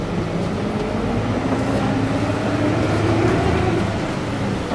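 Hino Blue Ribbon City city bus (BJG-HU8JLFP) pulling away from a stop in Tokyo, a steady engine drone with a slowly rising tone as it accelerates, loud and close from inside the cabin, no talk.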